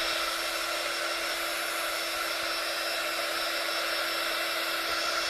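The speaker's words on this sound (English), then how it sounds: "So I need to use a heat gun, just going to very quickly dry the paint." Hot-air heat gun blowing steadily to dry Inka Gold paint on a handmade card, a continuous even whoosh with a fixed whine, close and alone with no talk.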